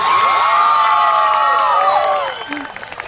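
Anime convention audience at Sakura Matsuri 2012 cheering and screaming during a comedy set, a loud dense burst of high-pitched shrieks and whoops that holds for about two seconds and then drops away into scattered crowd noise.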